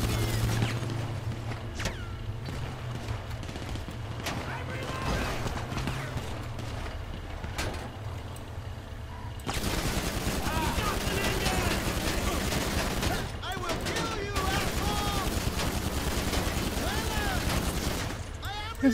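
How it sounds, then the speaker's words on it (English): Gunfire rattles in GTA 5 Online during a delivery mission, first as scattered sharp shots and then as dense, sustained bursts of automatic fire for the second half, with a voice talking at times. "the people I'm delivering the stuff to are now shooting"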